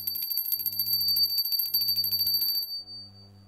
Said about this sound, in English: but I quite like this little tinkly bell.